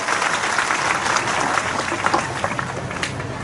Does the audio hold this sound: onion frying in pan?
no